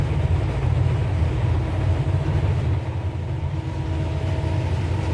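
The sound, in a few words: Ferromex train passing by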